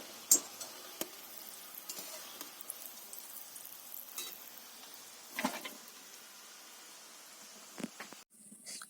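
Quiet sizzling of flour-dough snacks frying crisp in oil, with soft crackles and a few louder pops and stirring scrapes; no voices.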